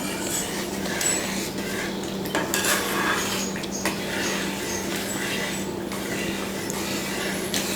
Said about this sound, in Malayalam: അപ്പം 3-ാം പാൽ ഒഴിച്ചിട്ട് നല്ലതുപോലെ ഇളക്കി ഇത് നല്ലതുപോലെ കുറുകിയിട്ടുണ്ട്